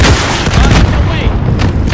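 A rocket launches and explodes in a first-person shooter game, a heavy booming blast with rumbling low end, followed by crackling debris and fainter gunfire as a voice speaks over it.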